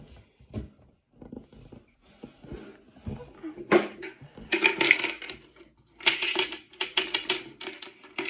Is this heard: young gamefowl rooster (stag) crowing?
no